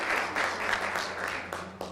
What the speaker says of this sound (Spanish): para quien pido un aplauso enorme